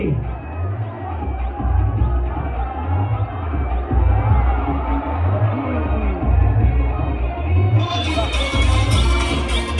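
At a Dahi Handi festival in Atali Koliwada, a large outdoor crowd cheers and shouts around a human pyramid. Loud continuous roaring and whoops rise over a rhythmic pulsing drumbeat, with a shrill rise near the end.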